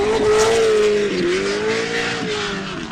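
A drift car on a solo demo run at a drift competition, engine note holding high and steady with tire squeal riding over it, loud and close throughout.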